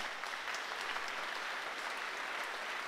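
A gala audience at the 2014 Fondation du Rhin event applauds Brigitte with steady, even clapping that fills the whole stretch at moderate volume, with no voices over it.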